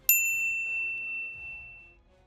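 A single bright notification bell ding strikes once, then rings out cleanly and fades over about two seconds against near silence.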